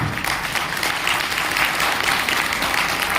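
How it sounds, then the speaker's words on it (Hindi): Steady, dense applause from a large audience at a direct-selling business seminar, sustained without break and filling the whole stretch. "एक जोरदार ताली होनी चाहिए इस लेवल के लिए"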